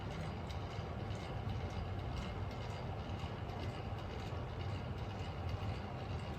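A small model train runs continuously, its motor whirring with a fast rattling rumble, steady and close, with no talking.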